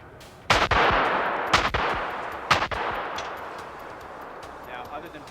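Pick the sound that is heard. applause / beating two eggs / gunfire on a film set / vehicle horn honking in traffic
gunfire on a film set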